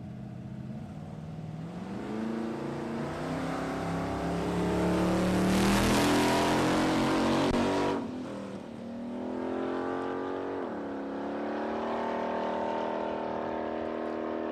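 An FC Holden wagon roars down a drag strip at a test day, its engine rising through the gears in a loud, sustained pass that swells to a peak and then eases off toward the end of the track.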